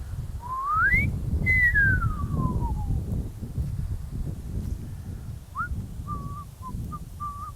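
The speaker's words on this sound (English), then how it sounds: "I can actually whistle blowing out and breathing in." A person whistles a rising then falling gliding tone, followed by a few short chirpy notes, fairly faint over a low background rumble.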